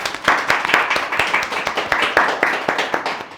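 Audience applause at a dance show finale, loud, close clapping from a crowd with a rapid, fairly even rhythm of distinct hand claps throughout.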